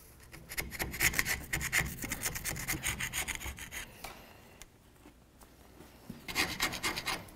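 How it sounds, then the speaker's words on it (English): A hand scraper rasps old gasket material off the rear differential housing of a 1992-99 GMC K1500 pickup, in quick repeated close scraping strokes with a brief pause before a final burst. "Go ahead and use your scraper."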